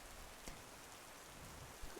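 Rain falls steadily near old abandoned railway tracks, a faint, even hiss of drops with a couple of slightly louder pattering hits.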